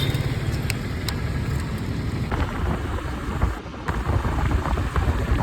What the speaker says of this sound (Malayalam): പക്ഷേ ഇപ്പം മഴ തുടങ്ങി.